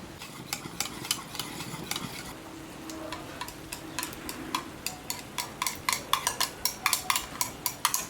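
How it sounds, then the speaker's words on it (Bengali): Spiced masala with whisked sour yogurt stirred and frying in a pan for restaurant-style egg curry: a low sizzle under a run of sharp, regular spoon scrapes and taps against the pan, growing more frequent toward the end. "টক দইটা দেওয়ার পরে 10 মিনিট ভালো করে কষিয়ে নেবেন।"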